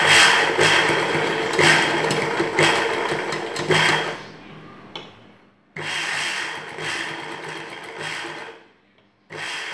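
An electric sewing machine stitches piping onto a blouse back neck, running in loud, close bursts with short pauses between, a whirring rattle that stops and restarts, with no talking.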